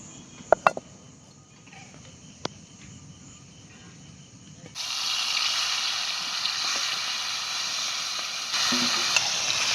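Quiet clinks and taps, then a sudden loud sizzle as prawns hit hot oil in a pan on a wood-fired stove, frying steadily and intensifying near the end.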